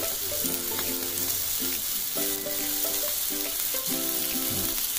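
Eggs cracked into a pot and stirred with chopsticks while cooking at a campsite, giving a steady close sizzle and frying hiss with faint scraping stir sounds throughout and no talk.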